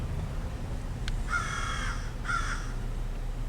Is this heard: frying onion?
no